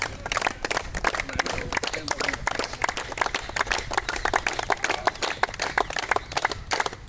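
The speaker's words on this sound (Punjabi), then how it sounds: "ਮਾਰ ਦਿਓ ਤਾੜੀਆਂ ਬਾਈ" Audience clapping at a Good Morning Welfare Club gathering in Kotkapura, a steady, fairly loud burst of many hands applauding together that runs evenly for several seconds with no voices over it.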